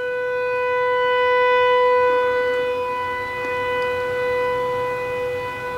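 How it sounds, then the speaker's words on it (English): Local tornado siren during its monthly test, a steady wailing tone heard from a distance, rising and falling gently in loudness while holding its pitch, with no talk over it. "is the monthly test in our local area of the tornado siren"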